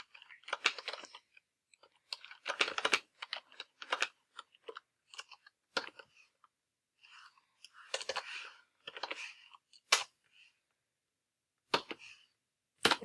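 Bursts of typing on a computer keyboard, quick clusters of close, crisp key clicks separated by short pauses, recorded alone in a quiet room.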